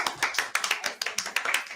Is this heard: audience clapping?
yes